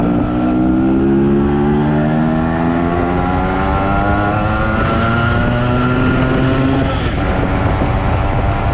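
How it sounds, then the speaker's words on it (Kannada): A Yamaha RX135 two-stroke motorcycle runs loud and close while being ridden, its steady engine drone rising smoothly in pitch as it accelerates and then easing off near the end. "ಅವ್ರದ್ದು RX ತಗೊಂಡು ನಾವು ಸುತ್ತಾಡೋದು ಈಗ."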